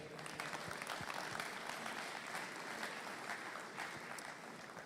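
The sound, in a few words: audience applause for the Agtech Accelerator Advisory Council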